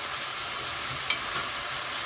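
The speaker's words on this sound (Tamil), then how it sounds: "நீங்கள் வந்து ஃபஸ்ட்டே வந்து எண்ணெயில் சிக்கனை பண்ணி எடுத்துருங்க, மசாலா போட்டு." Chicken pieces coated in red chilli powder and turmeric masala frying in hot oil, a steady broad sizzle throughout with one brief sharp crackle near the middle.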